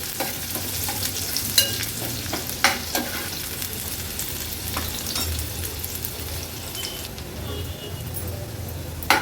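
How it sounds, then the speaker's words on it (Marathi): Onion and garlic fry in oil over a medium flame, giving a steady sizzle with sharp stirring clicks from a utensil at irregular intervals. No one speaks. "कांदा आणि लसूण आपल्याला मीडियम फ्लेमवर शिजवून घ्यायचं आहे।"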